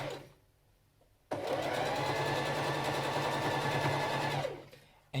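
A sewing machine starts abruptly and stitches a tote bag in one fast, steady run of rapid mechanical whirring before stopping, with quieter pauses on either side.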